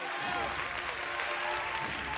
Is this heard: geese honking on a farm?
no